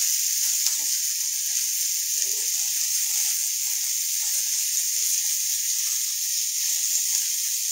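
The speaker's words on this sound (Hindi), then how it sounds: "इससे हमें सिर्फ एक फ्लेवर देने के लिए टॉसिंग कर रहे हैं" Onions tossed and sautéed in a hot pan in a home kitchen make a steady, close sizzle that continues throughout with no break.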